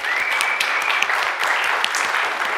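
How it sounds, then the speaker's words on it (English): A church congregation at a Sunday service applauds immigrants in its midst, a steady, dense roar of many hands clapping close by for the whole stretch with no pause. "Let's give a big round of applause for these individuals"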